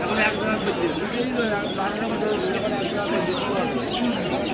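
Chickens clucking among other birds at a rural bird market, scattered chatter-like clucks and calls under people talking close by.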